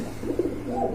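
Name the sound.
pigeon cooing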